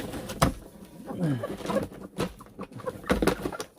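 Bantam chickens being moved to a temporary home at dusk make soft clucks and low murmuring calls, a few short bursts close by with some handling noise.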